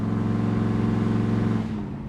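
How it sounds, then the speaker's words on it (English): A 1969 Chevrolet Impala convertible's exhaust rumbles steadily and throatily while driving, a low continuous engine drone that eases off slightly near the end. "The exhaust system does have a little bit of a throaty sound."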